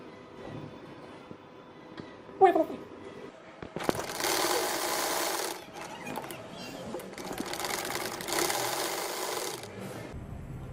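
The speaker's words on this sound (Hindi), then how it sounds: "अब मैं कंधों की सिलाई करने लगी हूँ।" Sewing machine stitching the shoulder seams of a baby boy's shirt, running in two sustained bursts of rapid whirring with short pauses and a few handling clicks between them.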